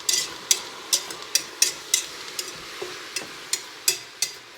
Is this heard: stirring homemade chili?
yes